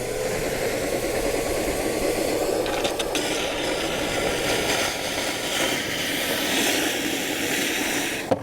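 A Dewalt StealthSonic shop vac runs close by with a steady, even whooshing drone of suction, a few faint knocks midway and a sharp clunk at the very end.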